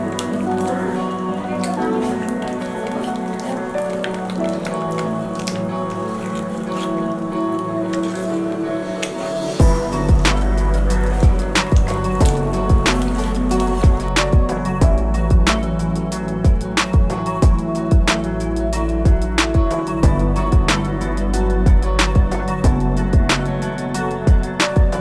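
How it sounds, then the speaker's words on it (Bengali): Palm pulp batter for steamed pitha being stirred with sugar and white oil, with wet squishing, tapping and scraping that is quiet at first, then loud and continuous with rhythmic thick splats up close. "এবার আমি ভালো করে একসাথে মিশিয়ে নেব।"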